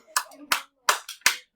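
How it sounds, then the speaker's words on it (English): A few sharp, separate hand claps ring out in a classroom, four crisp claps spaced unevenly over a second and a half, with faint voices between them. "I don't want to be the only one in the class clapping."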